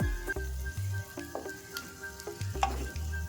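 Boiled potatoes with spices fry in a kadai and are stirred slowly, with repeated low scraping and knocking strokes from the spatula in a rhythmic pattern over a light sizzle, close by and without speech.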